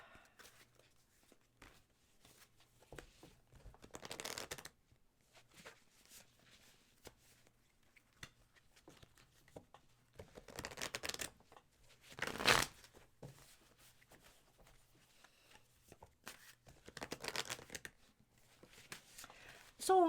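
A deck of tarot cards is shuffled in several quiet, separate riffling bursts, with soft rustling and near silence between them.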